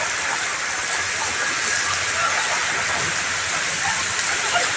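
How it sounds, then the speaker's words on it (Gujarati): Steady, dense downpour of heavy rain hissing continuously across the whole stretch, loud and close, with no other sounds standing out. "જોરદાર વરસાદ કર્યો"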